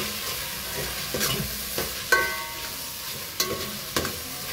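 Onions tipped into a hot oiled pan and sautéed, a quiet steady sizzle broken by several sharp scraping and stirring knocks of a utensil against the pan.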